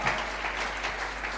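An audience claps for a child called up onto the stage, a short burst of scattered applause at moderate loudness.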